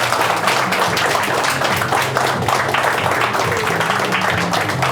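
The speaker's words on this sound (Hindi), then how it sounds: "गिव इट अप, अच्छे से ताली बजाओ।" Audience applause and clapping at a stand-up comedy show, a steady dense wash of hands filling the whole stretch, with faint voices and musical tones underneath.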